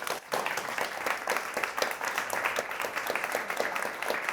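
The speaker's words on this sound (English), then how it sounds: "Could you give the panel a round of applause?" Audience at a talk on workplace mental health applauds a panel, a steady wash of many hands clapping at moderate distance, sustained evenly throughout without letting up.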